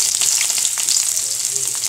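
Steady, close sizzling and crackling of onions frying in hot oil with fenugreek seeds, a dense bright hiss throughout with no voices.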